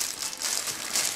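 A plastic bag crinkles as a PCP rifle's fill probe is handled inside it, giving a brief, close, continuous rustle lasting about a second.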